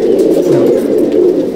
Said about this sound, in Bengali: এই পায়রা আমি উড়াচ্ছি